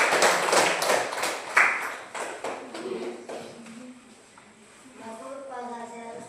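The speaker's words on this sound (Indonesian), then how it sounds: "Tepuk tangan buat Tuhan." Clapping from a group in a classroom Bible lesson, a burst of scattered hand claps that fades over a few seconds, followed by people talking.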